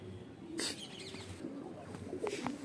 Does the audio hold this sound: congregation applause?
no